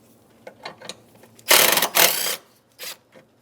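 Ratcheting and clicking of a tool loosening a 10mm nut on the intake area of a 2007-2015 Mazda CX-9 engine, with a few light clicks, then two loud bursts of rapid ratchet clatter and a brief final rattle, close by.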